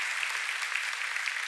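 Steady applause from an audience at a county government address, dense and even throughout, with no voices over it.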